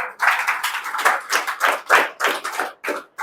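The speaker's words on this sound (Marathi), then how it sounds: "जरा त्यांच्यासाठी टाळ्या वाजवा" An audience claps at a police recruitment guidance session, a short burst of loud, uneven handclaps pulsing in irregular waves close by.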